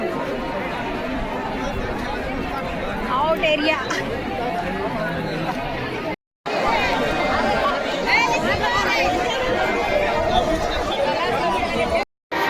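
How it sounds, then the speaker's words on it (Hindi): A huge crowd at a Kabir chadar tilak ceremony under a pandal fills the air with steady, dense chatter and babble, a constant hubbub close around with a voice speaking over it and two brief dropouts. "इधर इधर इधर इधर सामने में बहुत ज़्यादा भीड़ है"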